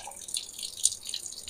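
Soaking water is tipped out of a potted orchid, making a faint, brief trickle and splash of dripping water, heard alone.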